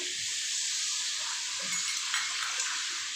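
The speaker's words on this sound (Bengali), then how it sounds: "যে হলুদ আর লঙ্কাগুলো দিয়েছি বাটিটা দিয়ে অল্প একটু জল দিয়ে দিলাম" A little water poured into a pan of potatoes with turmeric and chili gives a steady, soft hiss of sizzling and bubbling that holds even throughout, with occasional faint clinks of utensils against the pan.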